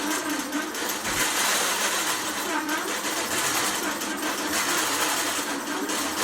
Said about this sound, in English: As you can see, the machine is stitching around my embroidery area.